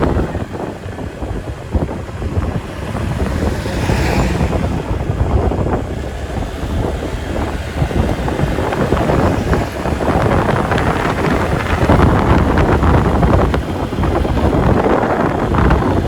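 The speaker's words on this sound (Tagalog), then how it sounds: "Malamig na hangin dito" Steady cold wind blowing across the microphone on the Halsema Highway in the Benguet mountains, a continuous loud low rumble with gusty roar and no speech.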